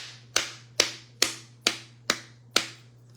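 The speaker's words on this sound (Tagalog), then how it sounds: "Palakpak ulit ako." Six sharp, evenly spaced hand claps close by, each ringing briefly over a faint low hum, with no talking.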